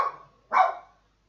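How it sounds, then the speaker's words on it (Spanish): A female dog barks indoors, nearby. One bark is cut off at the start, then a single sharp, loud bark follows half a second later and trails off into silence. "No sé a qué ladra mi perra."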